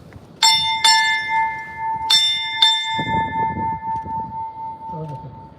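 Ship's bell struck four times in two pairs at a Navy retirement ceremony, bright ringing strokes with a long sustained tone, a bosun's pipe and low murmuring following.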